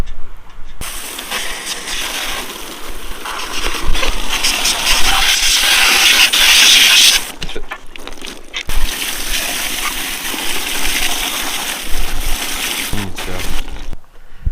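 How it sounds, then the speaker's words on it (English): Compressed air blasts water out of a washed 4.2 liter 258 CID Jeep engine block, loud hissing spray and splatter in long bursts with brief pauses, a voice briefly heard. "We're just going to blow the air out of everything."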